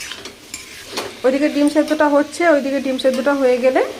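Nutrela soya chunks sautéed with spices in a pan produce a steady sizzle and scraping stirs, while a person talks over the cooking for most of the clip.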